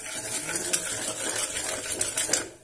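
Spices stirred into oil in a pan give off a steady, faint sizzling rattle with light scraping strokes, and there is no talk over it.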